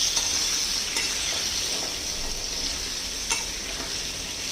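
Potatoes stirred into masala frying in a pan for chatpate aloo, a steady close sizzle with spoon scrapes and occasional clinks against the pan.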